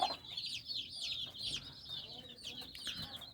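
Many small chicks placed under a turkey hen peep and cheep constantly in high chirps, close and lively, with faint low background noise.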